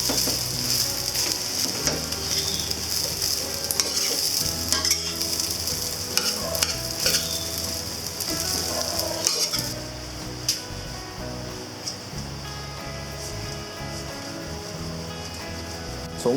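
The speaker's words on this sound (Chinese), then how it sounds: "继续翻炒，使米饭粒粒分明。" Egg fried rice with whitebait stir-fried in a wok: loud sizzling with repeated scraping and tossing strokes of the spatula, the hiss fading somewhat partway through while the clanking stirring continues.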